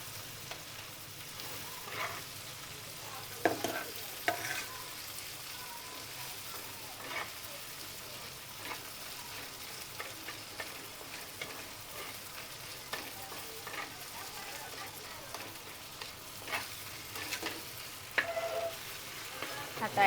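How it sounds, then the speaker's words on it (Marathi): Ginger garlic paste sizzles steadily in a hot pan for Marathi-style egg keema, with scattered scraping knocks as a spoon stirs it; a continuous, moderately loud fry with no talk. "आता त्याच्यात टाकते अद्रक लसूण पेस्ट."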